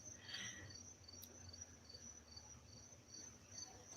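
Crickets chirp outdoors in a faint, steady pulsing trill that repeats evenly throughout, with one brief click partway through and no talking.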